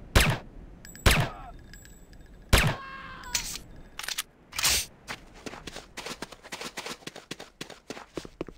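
Weapons fire at range targets in Command & Conquer: Renegade, a few loud single shots spaced about a second apart, followed by a rapid run of sharp repeated shots and clatter.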